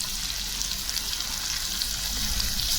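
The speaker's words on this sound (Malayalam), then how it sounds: "എന്നിട്ട് അത് നമ്മൾ വെളിച്ചെണ്ണയിൽ നല്ലപോലെ ഒന്ന് ഇളക്കി കൊടുക്കുക" Onion and ginger fry in coconut oil while being stirred, producing a dense, even sizzle close by with faint scraping from the stirring.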